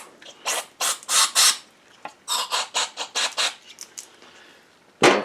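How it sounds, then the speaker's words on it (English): Brake parts cleaner is sprayed onto a part of a Cub Cadet pulling tractor in a rapid run of short, close hissing bursts, followed by a pause and one final loud burst. "good shot of brake parts cleaner through there"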